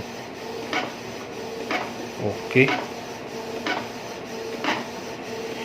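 A Canon MG3070S inkjet printer, previously struggling to feed paper, whirring and clicking as it pulls paper through, with periodic rhythmic strokes; a voice briefly speaks over it.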